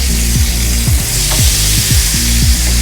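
A hamburger bun toasting in a hot pan, with a steady loud sizzle and crackle and repeated short scraping knocks from a utensil at a quick irregular pace.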